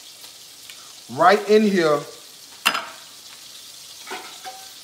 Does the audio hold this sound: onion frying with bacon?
yes